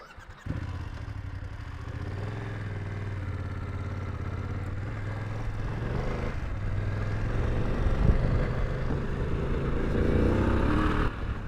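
A BMW F900GS Adventure middleweight adventure motorcycle pulls away and rides on, its steady engine drone building slightly as speed rises, close and continuous with wind noise over it.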